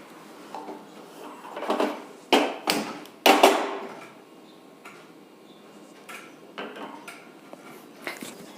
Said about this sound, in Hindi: लो फ्लेम पर ही इस चीनी को मैं मेल्ट होने दूंगी और इसे चलाती रहूंगी